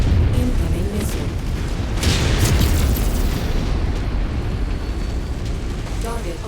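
A missile explosion in the game Crimson Crusade, heard as a sustained loud, broad rumbling boom over several seconds, with a voice speaking over the blasts.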